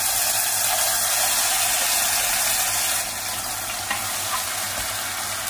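Homemade fish curry masala paste frying over medium heat in a pan for a tangra fish and potato curry gives a loud, continuous sizzle that dips a little partway through and carries on steadily.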